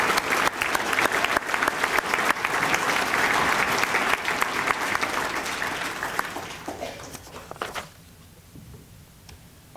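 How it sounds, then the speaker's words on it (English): Audience applause fills a hall at an awards dinner honoring community heroes, a dense, sustained clapping that holds steady for several seconds, then thins and fades out near the end. "a big round of applause for Marla Greer"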